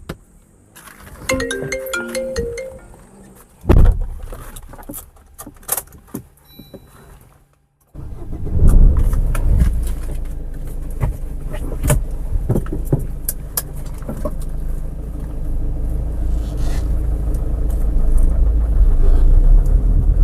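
A car starts up after a quiet pause, then its engine runs with a steady low rumble that grows slightly louder while it is driven off on a test drive; an earlier ringtone-like chime sounds before the start.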